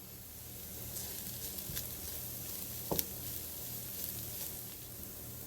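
Chopped onion frying in a pan with garlic paste and ginger paste for chicken tikka masala, a faint, steady close-up sizzle with a few small pops and one brief sharp clack.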